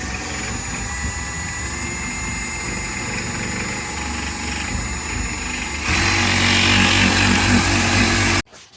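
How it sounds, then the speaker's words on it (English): A drill bores a drain hole to let trapped water out of a UP340 part, a steady whining motor hum that grows louder and harsher partway through before stopping abruptly. "I'm going to drill a hole so the water will drain out"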